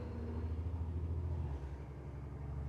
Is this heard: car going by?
yes